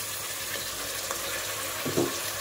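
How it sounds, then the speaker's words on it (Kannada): Tomatoes dropped into a frying pan of partly cooked peas, giving a steady soft sizzle with a brief louder hiss and stir near the end. "ಈಗ ನಾನಿಲ್ಲಿ ಟೊಮೆಟೊ ಹಾಕ್ಕೊಳ್ತಾ ಇದ್ದೀನಿ"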